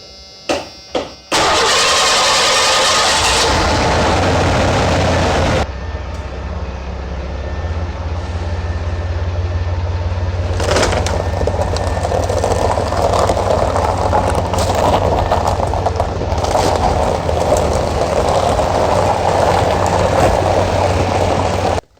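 A fire-damaged Porsche 944 engine cranks with a few short bursts, then catches and settles into a loud, steady idle that runs close by and continuously, with no talking over it.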